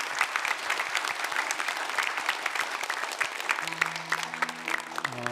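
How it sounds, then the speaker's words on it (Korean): A church congregation at a Korean Presbyterian Easter service claps in steady, sustained applause that fills the room, and a held keyboard tone enters near the end. "우리 박수하겠습니다."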